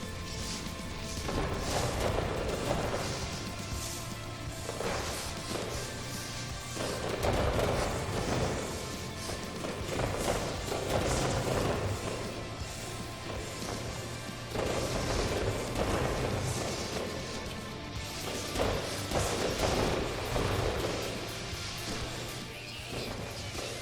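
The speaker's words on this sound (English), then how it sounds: "Yeah, it's a yellow fireworks display against a yellow sky." Fireworks display bursting in No Man's Sky, a yellow show against a yellow sky, with repeated booms, crackles and thuds in waves every few seconds over a steady game ambience, no talk.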